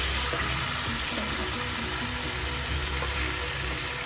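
Tomato rice pulao is turned and pushed in from the edges of a pan with a spatula, giving faint scrapes under a constant, fairly loud hiss of cooking, with no talk.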